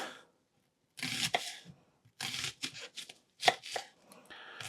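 Onions chopped with a very sharp knife on a board give bursts of quick close crisp cuts separated by brief pauses, with no talk over them.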